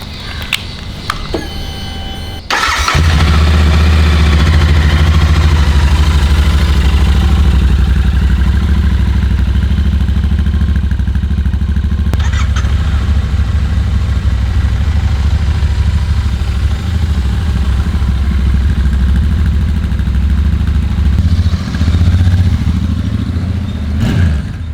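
A Royal Enfield Continental GT 650 motorcycle clicks and catches, then its engine settles into a steady, loud parallel-twin drone while riding, holding constant with faint mechanical clatter and no speech.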